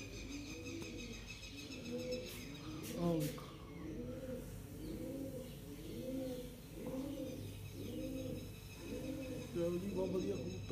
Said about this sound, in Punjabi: ਬਹੁਤ ਵਧੀਆ ਕਬੂਤਰ ਉੱਡਦੇ ਜੀ